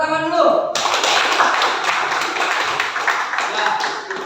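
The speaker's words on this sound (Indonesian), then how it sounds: "Tepuk tangan dulu." A class claps hands together after a teacher's prompt, a brisk burst of many clapping hands following a brief voice at the start.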